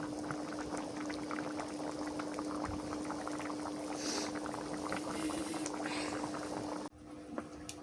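Curry of snakehead fish, ash gourd, shrimp and banana stem boiling in a pot, a continuous bubbling simmer heard close, with a soft clunk near the end.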